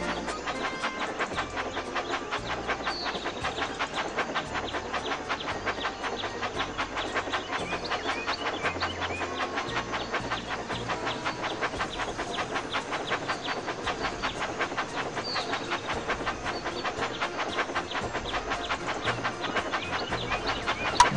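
A steady, busy clatter of a toy train set running continuously in a Thomas & Friends video game, with bright chiming accents on top and a rhythmic mechanical patter throughout.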